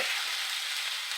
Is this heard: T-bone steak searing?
yes